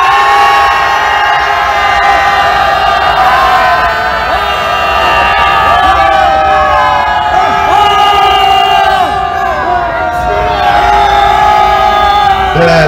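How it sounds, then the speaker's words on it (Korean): A loud, sustained roar of a rally crowd shouting together outdoors at a protest in front of the Bank of Korea, voices rising and wavering in a dense continuous wall of cheering and yelling. "자, 함성 발사!"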